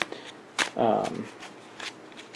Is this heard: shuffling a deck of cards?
yes